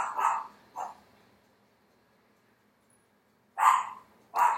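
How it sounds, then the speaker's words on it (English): A neighbor's dog barks in four separate bursts, two close together at the start and two more after a quiet gap of a few seconds, heard at moderate distance with no talk over it. "I'm just going to let my neighbor's dog bark, and hopefully it goes away"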